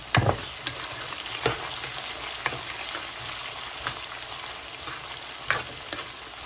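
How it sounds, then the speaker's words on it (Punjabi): Chopped onions frying in a pan for a Punjabi potato, carrot and pea sabzi, a dense steady sizzle with occasional stirring clicks and pops, close and continuous with no talking. "ਪਿਆਜ਼ ਆਪਣਾ ਭੁੱਜ ਕੇ ਫਿਰ ਆਪਾਂ ਟਮਾਟਰ ਵਗੈਰਾ ਪਾਉਂਦੇ ਹਾਂ"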